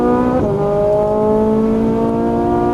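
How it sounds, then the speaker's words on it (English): A Ferrari 458 Italia at full throttle, engine note loud and close, climbing steadily in pitch with a quick break and drop around an upshift before pulling again. "Power out. Full throttle. Upshift."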